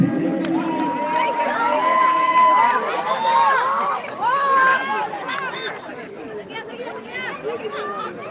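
A crowd at an outdoor team event cheers for Nishi Adi Galo, a loud dense mix of shouting, chatter and raised voices that swells early and then eases into ongoing babble.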